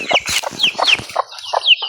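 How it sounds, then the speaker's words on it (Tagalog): Several chickens cluck close by in quick, overlapping bursts, with sharp higher squawks mixed in. "Ito na ang ating mga manok."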